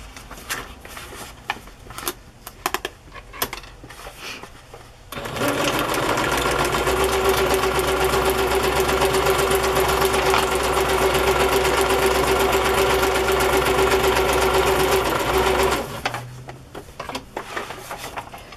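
A sewing machine stitches lace onto a peacock-themed craft journal, running in one steady continuous whirring burst of about ten seconds, close and loud, with quieter handling rustles before and after.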